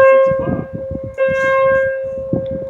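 A church bell rings outdoors at sunset beside water, its sustained tone swelling again with fresh strikes roughly every second, over a low rumbling, pulsing background.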